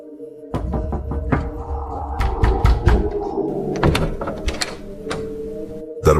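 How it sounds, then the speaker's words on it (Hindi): A knock on a door in a tense indoor setting, with several sharp raps and thuds standing out clearly over a low steady background, no voices present. "तभी दरवाजे पर दस्तक हुई।"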